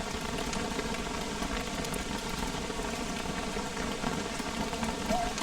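Steady rain falling in the survival game Don't Starve Together, a dense continuous hiss of drops with a faint tonal chime near the end, constant and fairly close throughout.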